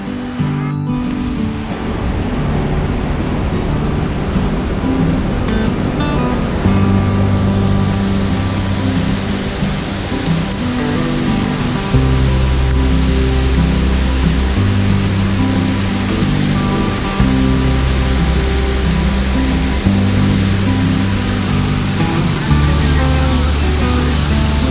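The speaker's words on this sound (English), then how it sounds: "we plan to just look at the flow of water in KANDHANPARA Waterfalls" Kanthanpara Waterfalls in Wayanad, Kerala, in high flow, a steady, loud broadband roar of rushing water that continues throughout, with low rumbling tones running underneath.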